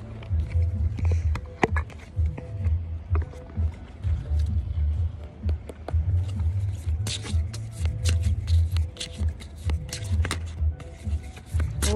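Tarot cards from a life-purpose deck are shuffled and drawn close by, with repeated crisp snaps, flicks and papery riffles in an uneven rhythm over a steady low background hum, and no talking.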